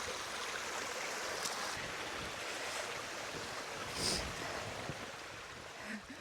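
Broad, steady rush of a flowing river on a Peak District hike with some wind noise, constant throughout, with a faint bump of movement near the end.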